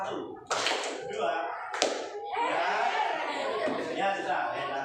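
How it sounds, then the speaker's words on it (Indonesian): A classroom group claps hands together on cue, with two sharp bursts of applause in the first two seconds followed by sustained mixed clapping, chatter and light laughter. "Coba kita tepuk dulu."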